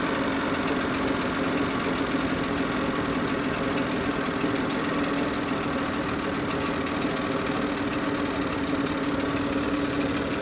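A new Chinese 9.8 outboard boat motor with a factory defect idles steadily and loudly up close, a continuous droning rumble with a faint irregular knock running through it, no voices.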